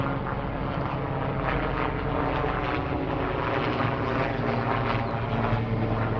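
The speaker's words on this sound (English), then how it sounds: "Sorry about the helicopter." A steady, loud aircraft drone fills the whole clip, a helicopter overhead with a low rotor rumble and broadband engine noise, no voices.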